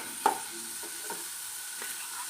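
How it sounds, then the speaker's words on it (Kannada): Green chillies frying in a pan for kushka, a soft steady sizzle broken by a sharp utensil clink and a couple of light scrapes. "ನೆಕ್ಸ್ಟ್ ಹಸಿರು ಮೆಣಸಿನ್ಕಾಯಿ ಹಾಕ್ತಾ ಇದ್ದೀನಿ ಇದನ್ನು ಫ್ರೈ ಮಾಡ್ತೀನಿ"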